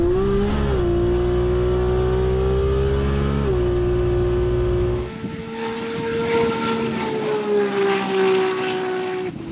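Nissan GT-R drag car on a strip with an automatic transmission, engine droning loud and steady with a brief dip in pitch, then another car or pass revving higher with fluctuating, gear-like pitch shifts and crowd-ambience noise underneath.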